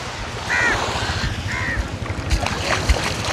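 Crows caw at a harbour beach in Thoothukudi, two clear calls standing over steady wind and lapping water, with a few thumps and clunks later on.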